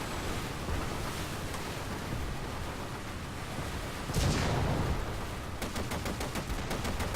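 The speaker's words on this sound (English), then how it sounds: "Fire all the guns at this guy." Naval guns firing in the War Thunder video game, a noisy battle bed that breaks into a heavy blast partway through, followed by a rapid train of sharp repeated shots near the end.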